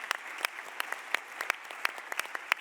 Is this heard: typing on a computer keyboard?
no